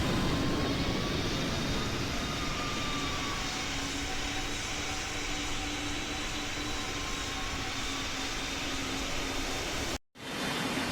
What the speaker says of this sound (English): The plane is now ready to take off.